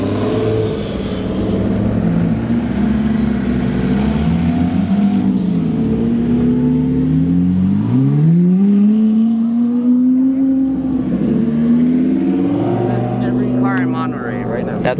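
A Porsche GT2 RS engine revs and rises in pitch during a street lineup at Monterey Car Week, loud and close, with people talking over it throughout.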